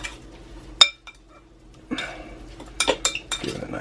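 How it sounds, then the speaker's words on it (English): Chicken burrito filling is stirred in a cast iron pan, with a few sharp clinks of the utensil against the pan, then a quiet pause before a cluster of scrapes and clatters near the end. "give it a nice stir"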